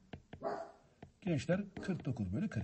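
A dog barks a few times in the first second, then someone talks over the rest of the clip while giving a math lesson.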